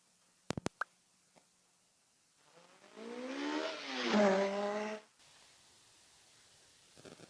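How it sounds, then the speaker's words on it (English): A car engine revs up and back down in a single smooth swell lasting a few seconds, preceded by a few sharp clicks and otherwise quiet surroundings. "Seek, car."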